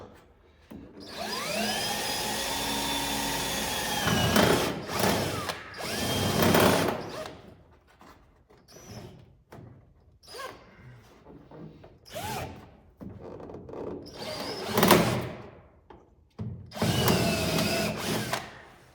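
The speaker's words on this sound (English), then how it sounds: "Just broke my fancy drill bit" A power drill whines in repeated bursts while installing a rear spoiler on a 1976 Trans Am, revving up and down with short stops between runs, loud and close; a drill bit breaks.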